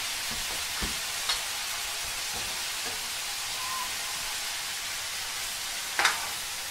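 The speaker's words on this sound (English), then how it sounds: "Give this a nice little toss. Just let that saute a minute or two." Onions and bell peppers sauté in a hot pan for a Thai-style stir fry, a steady close sizzle with a few faint clinks and stirring knocks.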